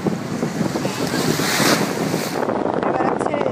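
Sea waves wash onto a beach with strong wind buffeting the microphone, a loud, continuous roar of surf and gusts throughout.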